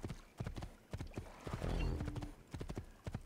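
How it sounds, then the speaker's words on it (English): A horse gallops with quick, clopping hoofbeats and gives a loud whinny midway, in the video game Assassin's Creed 2. "Luckily there's a horse I can hijack right here."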